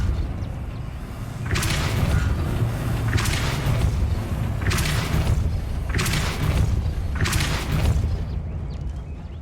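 Five evenly spaced bursts of a spell effect in Hogwarts Legacy, each a loud whooshing boom, about two seconds apart over a low steady rumble, with no talking.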